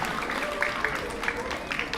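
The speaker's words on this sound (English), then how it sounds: "Give our third graders a round of applause." A school audience at a third and fourth grade spelling bee gives a short round of scattered hand claps for the third graders, light and somewhat distant, with a voice speaking underneath.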